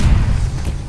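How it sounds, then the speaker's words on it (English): A stun grenade in Call of Duty Vanguard bursts with a single short, deep boom that rumbles heavily and fades within a second. "Stun grenade out."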